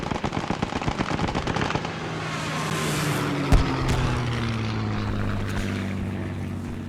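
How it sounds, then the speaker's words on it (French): Military propeller aircraft flying overhead, a steady loud drone with falling pitch bands as it passes, after several seconds of sharp rapid gunfire-like bursts and a single heavy thump near the middle. "C'est l'avion de recours, c'est l'avion de recours."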